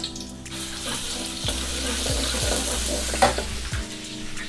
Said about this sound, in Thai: เราก็ผัดจัดการผัดกระเทียมเลยนะคะ